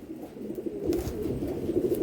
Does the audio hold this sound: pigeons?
yes